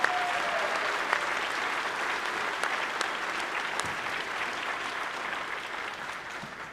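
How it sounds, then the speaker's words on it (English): Audience applause for a high school choir at an honors convocation evening, a steady wash of clapping from a large crowd that holds even for the whole stretch, fading only slightly at the end. "please join me in applauding Mrs. Tomazeski and the CHS choir for entertaining us tonight"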